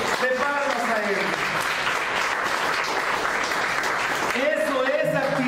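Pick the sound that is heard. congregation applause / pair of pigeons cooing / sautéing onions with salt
congregation applause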